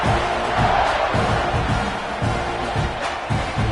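A football stadium crowd at an Ohio State versus Texas A&M game keeps up a broad, steady roar around kickoff, loud and continuous with faint rhythmic thumps underneath and no clear talk.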